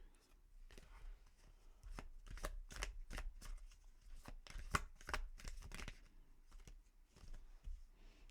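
Tarot cards shuffled by hand, a run of soft riffling flicks and taps in uneven bursts, fairly quiet and close.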